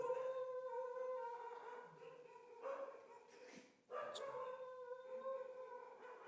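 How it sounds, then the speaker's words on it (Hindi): A dog barks and howls in the background during a poetry recitation, its drawn-out, wavering calls repeating several times at moderate distance. "कुत्ता भौंक रहा है।"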